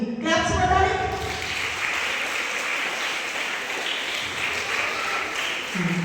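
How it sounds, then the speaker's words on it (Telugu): A children's ministry audience at a church gathering claps together in a steady, sustained round of applause that fills the room, with a voice speaking briefly at the start. "ఒకసారి డోరాకు, ఓలెక్స్ కూడా మరి క్లాప్స్ కొట్టాలి"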